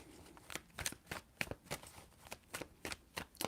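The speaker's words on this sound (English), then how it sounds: "3 shuffles." Tarot cards are shuffled by hand in a quiet room, a series of about a dozen crisp, evenly paced riffling snaps heard close and alone.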